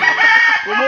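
A brief, loud rooster crow rings out close by, with a bit of chicken clucking under it.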